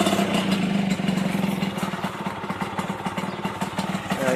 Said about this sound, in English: it's idling okay off the choke, but every now and again it pisses out a load of petrol